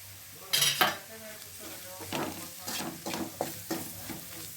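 Onions sizzle in a pan with coriander powder, chili powder and turmeric while a utensil stirs and scrapes them in repeated short strokes over a quiet, steady frying hiss.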